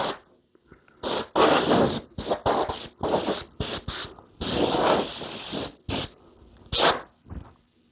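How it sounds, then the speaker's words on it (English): Compressed air blasts onto a panel to clear dust before a 2K clear coat is sprayed, a series of sharp hissing bursts of varying length, close and loud, with short pauses between them. "I'm just going to give it one little shot with some air"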